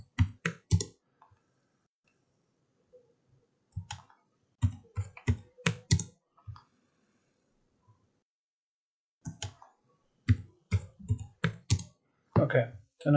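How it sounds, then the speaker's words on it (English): Quick bursts of close computer-keyboard keystrokes as numbers are typed in during CAD modeling, the clicks arriving in short clusters separated by quiet pauses. "I'm just typing the number in now, so goes a little bit quicker."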